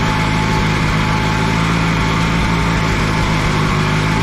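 An Allis Chalmers G tractor engine runs steadily in the snow, a loud, close, even mechanical drone with a buzzy rattle and no voices.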